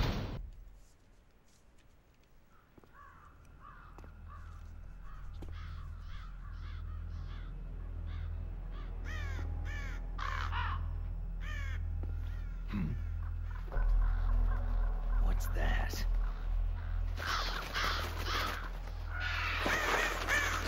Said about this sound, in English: A lot of crows coming for your ass.